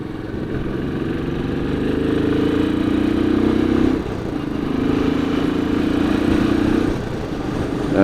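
A 2017 Royal Enfield 500 Classic single-cylinder engine runs through a heavy, restrictive exhaust, giving a muffled, steady thumping note that swells twice and then eases back. The sound is near and loud, with no talk over it.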